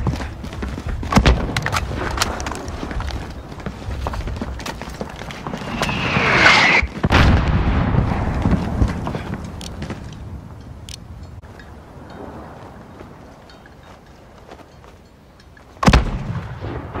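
Mortar fire and battlefield gunshots in Call of Duty: Modern Warfare (2019) during a sniper mission, with repeated sharp reports, a heavier boom midway and another sudden blast near the end over a steady rumble of combat.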